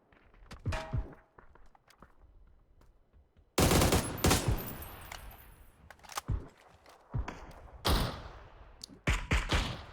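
Rapid bursts of automatic gunfire in a competitive first-person shooter match, with sharp loud volleys, a sustained stretch of fire from the middle onward, and scattered single shots and footsteps between them.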